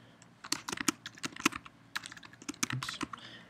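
Rapid, uneven typing on a computer keyboard, close and fairly quiet, with crisp clicky keystrokes in short bursts and brief pauses, alone without talk.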